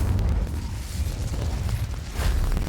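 A roaring burst of fire from the Incendio spell in the video game Hogwarts Legacy, a sustained rumbling whoosh that swells again near the end, loud and continuous.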